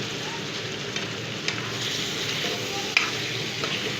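Tomato masala sizzles and fries in oil while being stirred, a steady close crackle with a few soft scrapes of the spoon and no talking.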